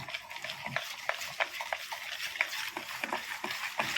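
Condensed milk being stirred into a pudding mixture in a pot, with a steady rhythm of close, wet scraping strokes and light clinks of the utensil against the pan.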